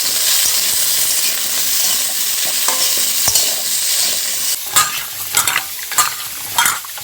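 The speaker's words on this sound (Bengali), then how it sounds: "ফুলকপিগুলো আমি একসাথে ভেজে নিচ্ছি" Cauliflower pieces frying together in a pan for a winter vegetable khichuri, a steady sizzle running throughout with occasional stirring clatters and scrapes toward the end, close and fairly loud, no talking.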